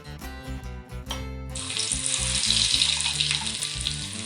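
Hot, almost smoking ghee in a pan for chicken dal gosht gives a bright, steady sizzle that starts abruptly partway through and holds loud and close, with background music running underneath.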